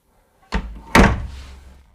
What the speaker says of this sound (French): ici, il y a une petite porte qui mène uniquement à une petite toilette